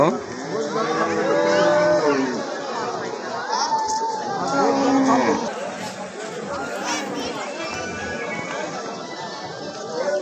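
Cattle low intermittently at a busy rural Bangladeshi cattle and goat market held for Eid, their moos rising through dense crowd chatter and nearby voices.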